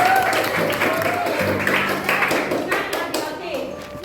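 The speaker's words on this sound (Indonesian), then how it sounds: "Bagus sekali, tepuk tangan." Classroom of junior high students clapping their hands together after a teacher's praise, a dense burst of claps mixed with children's voices and a low steady hum underneath.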